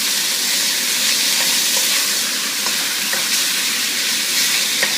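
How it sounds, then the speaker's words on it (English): Cornstarch-coated flank steak sautés in a hot pan with a steady, close sizzle and faint crackles, continuous and alone without talk. "And now I'm just going to saute it."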